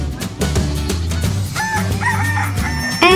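A toy farm rooster crows loudly and close, a drawn-out cock-a-doodle-doo with a low musical bed underneath.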